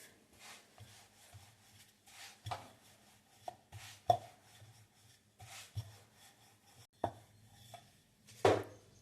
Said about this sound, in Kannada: ಸ್ವಲ್ಪ ಒಣ ಹಿಟ್ಟು ಹಾಕ್ಕೊಂಡು ಲಟ್ಟಿಸ್ಕೊಳ್ತಾ ಇದ್ದೀನಿ.